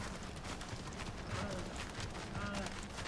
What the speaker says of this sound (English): These goats are fast little SOBs.